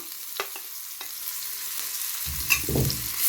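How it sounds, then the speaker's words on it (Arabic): Onions sautéing in ghee with browned meat in a pan, a steady broadband sizzle with a few sharp scrapes and clinks, and a low rumbling stir near the end. "هننزل بالبصل اهو، هنشوح البصل مكان اللحمة المتحمرة"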